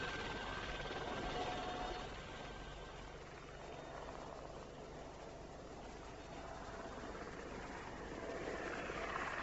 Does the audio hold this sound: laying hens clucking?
no